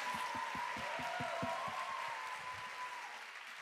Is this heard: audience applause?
yes